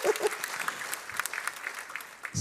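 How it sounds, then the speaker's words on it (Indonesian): Scattered applause from a church congregation for their pastor, moderately loud clapping with uneven bursts over a couple of seconds and a brief voice at the end. "Tepuk tangan dulu untuk Pak Gembala kita nih."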